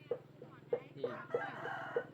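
Chickens with a rooster on a rice farm in Kalasin, Thailand, giving several short clucks and calls at a steady rhythm under someone talking, with crowing-like calls close by.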